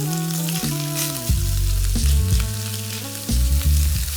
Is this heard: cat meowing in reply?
no